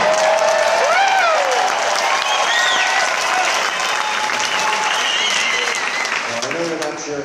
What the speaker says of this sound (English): You're cheering because someone's saying that